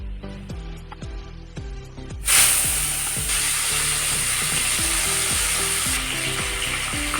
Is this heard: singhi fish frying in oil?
yes